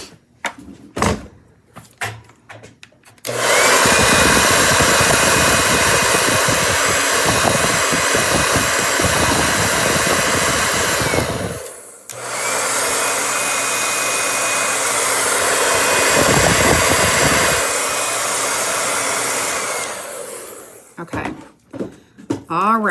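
Hair dryer blowing steadily to dry a handmade poinsettia door tag craft, running in two long bursts of roughly eight seconds each with a short pause between, loud and close, with brief handling noises before and after.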